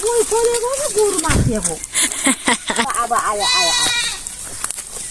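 A goat bleats several times up close, its wavering cries loud and repeated, mixed with a person talking nearby.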